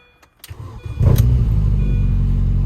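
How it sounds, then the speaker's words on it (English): A car engine cranks briefly with a few clicks, then catches and settles into a steady, loud idle close by. "Let's see if we can actually get this thing to start now with a battery that has charge."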